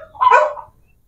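In a quiet rural area, a dog gives a single clear bark at moderate distance against a faint low background, with no talking.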